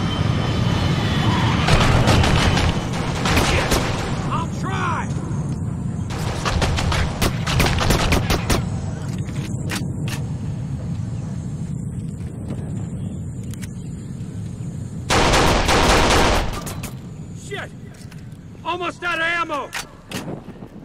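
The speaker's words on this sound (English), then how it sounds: "Hope no one heard the shots." Rapid bursts of gunfire in the Kane & Lynch 2: Dog Days video game, loud and repeated, with heavy booming shots and dense volleys over a rumbling battle background.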